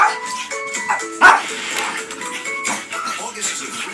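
Puppies at the Puppy Bowl, a televised puppy football event, bark and yip in short close bursts, with one louder bark standing out, over a busy background with voices.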